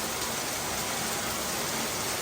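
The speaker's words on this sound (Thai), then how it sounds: "แบบบ่ได้ยินเสียงอย่างเลยมีแต่เสียงฝน" Steady rain falling on a night in Vientiane, Laos, during a power outage: a constant, even hiss of broadband noise that fills the short stretch without any voices.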